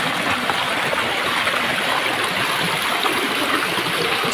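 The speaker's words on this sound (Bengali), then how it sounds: "ধাপের পানির প্রবাহটা দেখুন কতটা ভয়ঙ্কর সুন্দর।" Water rushes steadily down the rocky steps of Khoiyachara waterfall, a loud, dense, continuous roar with no break and no voices.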